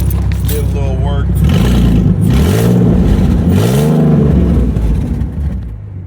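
A Ford Mustang engine revs up and down loudly, with a raspy exhaust note that may come from a leak such as a broken flex pipe, rising and falling in close, steady sweeps while someone talks over it.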